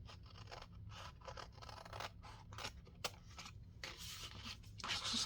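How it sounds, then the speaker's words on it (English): Scissors trim around a paper piece for a junk-journal card in a series of quick, close snips and crisp scratchy cuts, with one sharper snap partway through. "I'm just going to trim around it with my scissors"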